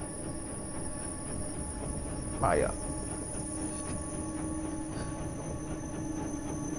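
A train rumbles past in a steady, continuous low roll in the video game Inside, and a voice speaks briefly over it partway through.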